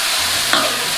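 Octopus stir-fries with hotpot base in oil, a short burst of loud steady sizzling with a quick scrape of stirring midway.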